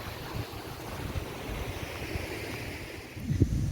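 Stream water flowing down from the Curug Benawa Kali Sidi waterfall, a continuous rushing wash with some wind buffeting the microphone and a louder gust near the end, no voices.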